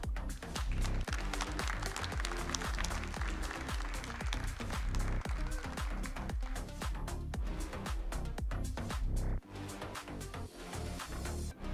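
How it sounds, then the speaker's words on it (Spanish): Conference audience at the Ekoparty 2022 security event breaks into loud, sustained applause to welcome a speaker, a thick wash of many hands clapping that holds strong and then eases slightly near the end. "Le damos la bienvenida con un fuerte aplauso a Salvador Mendoza."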